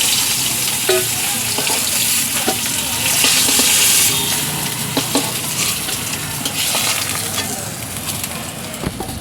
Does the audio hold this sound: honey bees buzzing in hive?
no